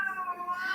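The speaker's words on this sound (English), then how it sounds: "Hang on a minute, cats are fighting." Outdoor cats squabble, giving a short, strained, whining caterwaul at moderate volume with no talking.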